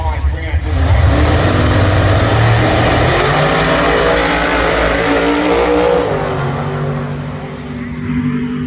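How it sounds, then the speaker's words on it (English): A Top Sportsman Chevrolet race car at a track championship meet roars loud and close, its engine rising in pitch around the midpoint and holding a dense, steady drone before easing slightly near the end. "local legend Dave Foster in his Chev. This thing's quick"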